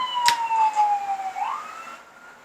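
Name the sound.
fire engine siren passing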